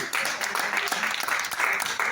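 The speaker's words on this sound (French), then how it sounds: "Alors, on va applaudir très fort pour Bouba Petit Mossi." Audience applause for a stand-up comedian at an open-air comedy evening, a dense, continuous wash of clapping from a crowd, loud and sustained with voices mixed in underneath.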